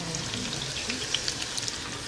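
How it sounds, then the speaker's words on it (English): Sliced onions frying in a batch in hot oil for Hyderabadi dhaba-style chicken, giving a steady soft bubbling hiss with small scattered crackles throughout, no talking. "Don't try to fry all the 3 large onions together, because then it doesn't become that crispy"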